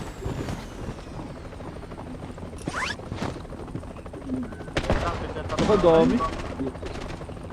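Helicopter rotor drone in a first-person shooter match, running under Filipino gamer chatter alongside bursts of gunfire and sharp effects, fairly loud throughout.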